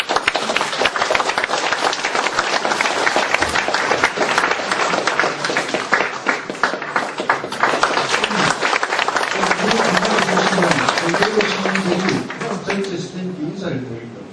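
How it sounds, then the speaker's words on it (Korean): Sustained, loud audience applause welcoming a lecturer at a philosophy and humanities forum, dense clapping throughout that thins near the end as a voice begins speaking over it. "여러분 큰 박수로 환영해 주시기 바랍니다."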